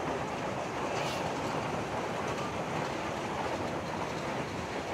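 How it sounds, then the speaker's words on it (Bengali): A children's park ride train runs at Mirpur Zoo in Dhaka with a continuous rumbling rattle of wheels and cars, steady and moderately close, with no voices heard. "এখানে কিন্তু আপনার ট্রেন রাইডও আপনারা দেখতে পারবেন"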